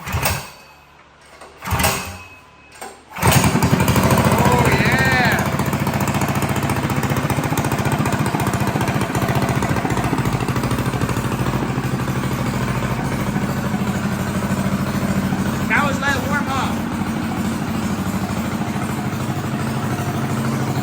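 First start of a stage 3 Predator 212 engine on a Manco Dingo kart: a couple of brief cranking bursts, then the engine catches and runs with a loud, steady, buzzing small-engine drone close by for the rest of the clip.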